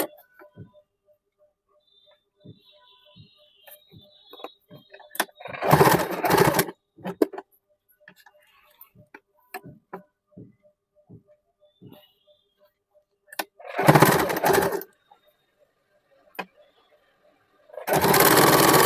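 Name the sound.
sewing machine stitching saree fabric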